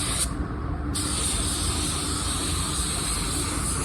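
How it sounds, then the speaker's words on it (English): Steady, continuous hiss of a spray gun applying sealer to an automotive paint spray-out card, close and fairly loud, with a brief dip in the high end near the start. "I'm spraying my spray out card with my sealer."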